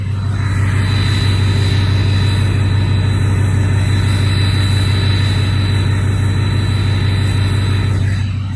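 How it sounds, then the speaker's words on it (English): A Ford 6.0 Powerstroke diesel engine idles on a cold winter day, a loud, steady low rumble with a constant droning hum that holds unchanged for the whole stretch, with no voices. "Powerstrokes are the best sounding diesel engines ever made."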